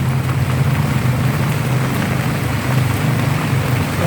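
Heavy rain pours down on a parked tricycle and its tarpaulin cover, a loud, dense, unbroken hiss with a low steady hum underneath and no talking.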